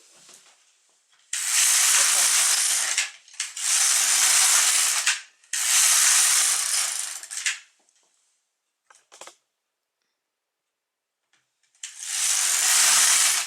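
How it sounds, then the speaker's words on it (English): An LK150 knitting machine carriage sweeps across the bed in loud, rasping mechanical passes about two seconds each: three in quick succession, a quiet gap with a faint click, then a fourth pass. "So let's knit until row count shows 69."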